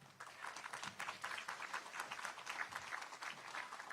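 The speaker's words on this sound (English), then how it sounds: "All right, keep the applause going." An audience at the unveiling ceremony for a Betty White postage stamp breaks into sustained applause, many hands clapping steadily in a moderately distant, even patter that never lets up.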